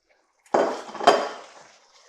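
Cheddar, mozzarella and grated Parmesan stirred into pasta sauce in a pot, two quick metal clanks of a utensil against the pot fading into a brief scraping stir, with no talking.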